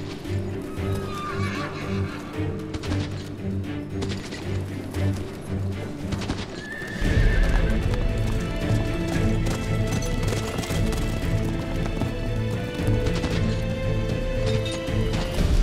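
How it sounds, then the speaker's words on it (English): Horses gallop with rapid clip-clop hoofbeats, joined by a shrill neigh, then a louder, denser rush of hooves and crashing in a medieval riding scene, with no speech. "So Edward plays a game with his captors, swapping horses to find the fastest"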